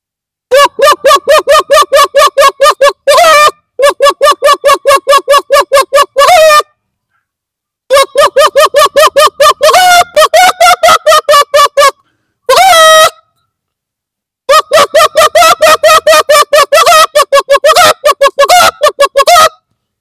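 A man imitates a hen's cackling call after laying an egg, voicing rapid repeated clucking bursts in long runs, broken by brief pauses and one drawn-out squawk, loud and close with no other sound.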